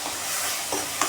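Onion sautéing with finely chopped green chillies in a pan, a steady hiss of frying with a couple of soft stirring scrapes, close and unaccompanied by speech.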